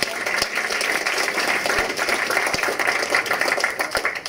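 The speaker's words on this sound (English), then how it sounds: "Give a round of applause." Audience applause at a UCMMA 19 "Lights Out" mixed martial arts press conference, a steady wash of clapping from a crowd sustained for several seconds with sharp individual claps standing out.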